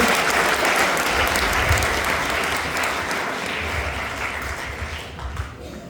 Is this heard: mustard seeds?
no